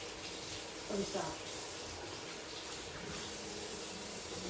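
Tap water runs steadily into a sink as limp celery is rinsed under it, a faint continuous splash with a short surge partway through and a few quiet spoken words.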